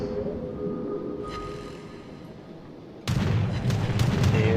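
Battleship secondary guns open fire in the World of Warships game: after a few seconds of low engine-like hum, a sudden loud run of booming gun blasts follows, rolling together near the end.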